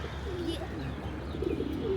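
A pigeon near its coop gives soft, low coos nearby, with a light background hum, during feeding.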